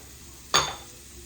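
Cremini mushroom slices stirred in a hot pan give one short burst of sizzling with a metallic scrape, rising suddenly and fading within a fraction of a second against a quiet kitchen background.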